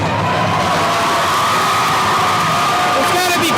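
A whole school crowd cheering at a high school wrestling assembly dual between North Point and Hillsboro: loud, continuous roaring with whoops and yells throughout, no break in the noise.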